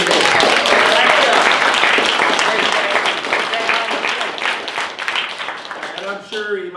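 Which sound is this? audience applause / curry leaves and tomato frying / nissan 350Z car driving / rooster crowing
audience applause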